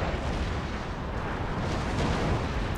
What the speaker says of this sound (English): Ripple fire.